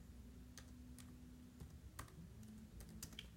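Sparse keystrokes on a computer keyboard, a handful of sharp clicks spaced irregularly over a steady low hum, quiet and close, with no one talking.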